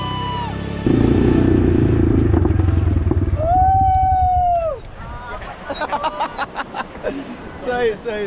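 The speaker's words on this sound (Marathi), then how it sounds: "आता आपण करणार या बाईकची राईड." A motorcycle ride at Harihareshwar on the Konkan coast brings a loud, steady engine drone close by for several seconds. A rising, siren-like tone cuts through, then crowd chatter and voices take over as the engine fades.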